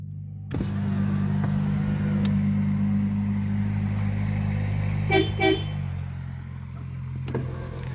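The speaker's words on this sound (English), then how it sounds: "I'll pop the window down and I'll let you see what the horn sounds like" Two short honks from the horn of a 1990s Toyota Carina E, heard around the five-second mark over a steady idling engine hum from inside the car, with the window lowered; no one speaks.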